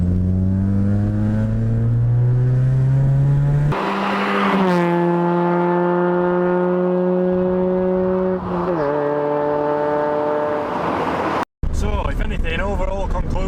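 A Honda Civic Sport EP2 on a country road, its engine climbing loudly through the revs with clear gear changes between pulls, heard up close from inside the car before a brief cut.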